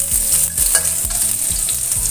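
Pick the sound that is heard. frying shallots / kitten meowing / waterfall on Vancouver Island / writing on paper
frying shallots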